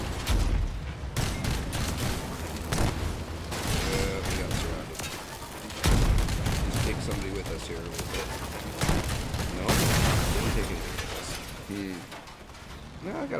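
Gunfire in a vehicle-building combat video game crackles in scattered bursts through a dense, busy mix of game noise, with someone talking over much of it.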